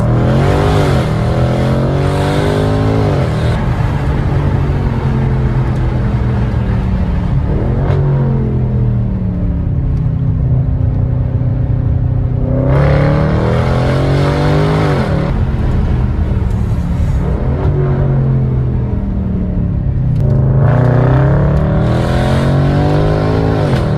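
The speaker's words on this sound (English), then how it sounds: "575 horsepower, chasing a Caterham." A 575-horsepower Jaguar XJR revs hard and accelerates in repeated loud pulls, the engine note rising and dropping between gear changes, continuous and close throughout with no talking.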